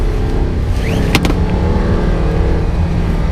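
Audi R8 with stock exhaust driven on mountain roads, heard from inside the car: a loud, steady engine drone with a short whine partway through.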